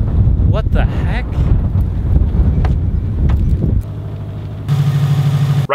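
Strong wind buffets an outdoor microphone on a warm, gusty January day, giving heavy low rumbling roars and crackling bursts that stay loud throughout, followed by a steadier droning hum near the end.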